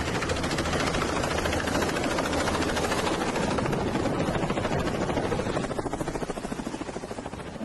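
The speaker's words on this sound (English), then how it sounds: "This helicopter pilot doing a quick drop-off." A helicopter on a quick drop-off beats out a loud, close, rapid rotor chop under a heavy engine roar, easing slightly in the last couple of seconds.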